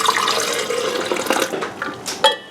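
Water poured from a tap or pitcher over 4 ounces of espresso for an iced Americano, a steady close splashing stream with a brief clink near the end, no talking.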